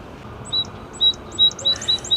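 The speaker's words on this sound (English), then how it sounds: "the sound of bird song has brought us into this park area" Birds sing in a park, a series of short, bright chirps repeating at a steady pace over quiet background hum.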